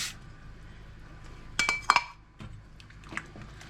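Dry lentils tumble into a soup pot of pork lentil soup in a home kitchen, a short burst of light clattering and clinking over quiet room tone, then a few softer knocks.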